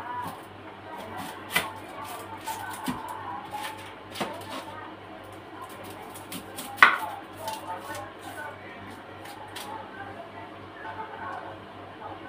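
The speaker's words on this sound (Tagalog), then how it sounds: "Ini mangilita ang sibuyas, guys." Onion sliced with a knife on a cutting board, a series of irregular, close taps and knocks with one sharper strike, over a low background hum, with speech in the background.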